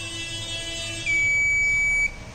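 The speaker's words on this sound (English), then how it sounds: "for deleting purpose you will get the beep at least of 1 second" A steady electronic beep lasting about one second sounds from a Raspberry Pi smart shopping trolley when an item is deleted, clear over a faint background hum.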